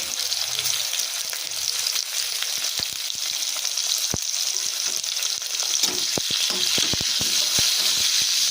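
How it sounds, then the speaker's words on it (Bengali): Chopped onion and potatoes frying in hot oil for a Bengali fish curry, a loud continuous sizzle close up, broken by scattered sharp pops and stirring clicks, with no voices. "এভাবে খুব লাল লাল করে ভেজে নেব"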